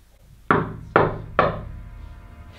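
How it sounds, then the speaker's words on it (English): Three loud, evenly spaced knocks on a gate ring out alone, each hollow thud fading quickly before the next. "There's knocking at the gate."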